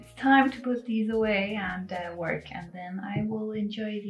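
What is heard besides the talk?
No everyday noises stand out.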